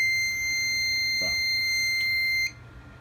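A fire alarm sounding during an alarm test on a filtered DC fire alarm panel, giving a loud, steady electronic tone that runs for about two and a half seconds and then cuts off abruptly.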